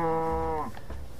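Cow mooing in the video game Minecraft: one clear, drawn-out harmonic moo lasting over half a second, close and loud, followed by low background noise and a faint thump.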